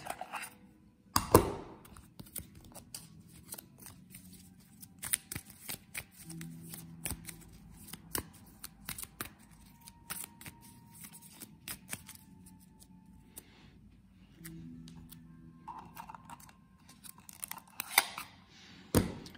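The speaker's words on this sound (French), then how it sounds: "On n'a même pas le temps de tirer 3 cartes, il faut remélanger direct." A deck of game cards riffled and reshuffled in repeated bursts of crisp, rapid fluttering clicks, close and fairly quiet, separated by short pauses of handling.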